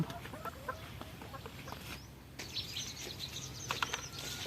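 Laying hens cluck in a backyard coop, scattered soft clucks and a few sharper calls over low background rumble, with a brief rustle of flapping midway.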